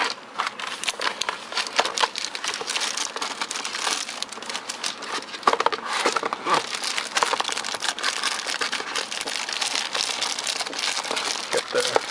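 Plastic and cardboard packaging crinkles and rustles steadily at close range while a Razer BlackWidow Elite mechanical gaming keyboard is lifted out of its box, with a few sharper crackles around the middle.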